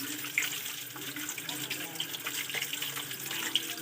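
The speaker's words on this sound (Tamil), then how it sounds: "இப்போ நம்ம எல்லாத்தையுமே இப்படி கழுவி எடுத்துக்கலாம்." Vegetables are washed under a running tap at a sink, a steady faint splash of water with small bursts and drips, close and alone.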